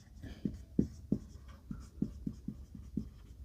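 Pen scratches on paper while a maths solution is written out, a quick irregular run of short taps and strokes, close and clear with no talk.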